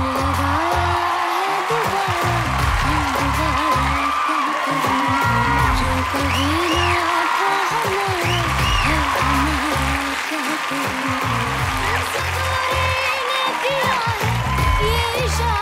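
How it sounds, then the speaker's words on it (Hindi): Crowd applause and cheering at an awards show in Dubai as the winner of the leading-man award is announced, a continuous roar of clapping with whoops over heavy, pulsing background music. "एक दफा जोरदार तालियां हमारे लीडिंग मैन के लिए।"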